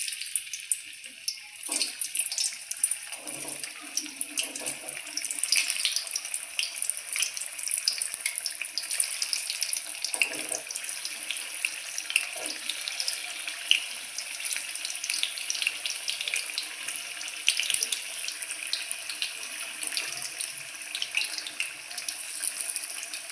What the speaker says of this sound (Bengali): এখন আমি ভেজে নেব সিদ্ধ করে রাখা আলু।